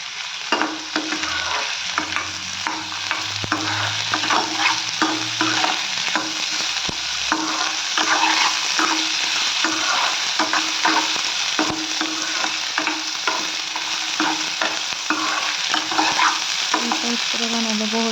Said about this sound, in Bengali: নাড়াচাড়া দিতেছি, নাড়াচাড়া করে দিলে জলদি ফ্রাই হয়ে যায় আর কি।